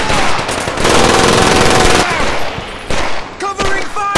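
Sustained covering gunfire in the video game Medal of Honor: Pacific Assault: loud, dense automatic bursts rattle for a couple of seconds, then break into shorter volleys mixed with shouting and battle noise.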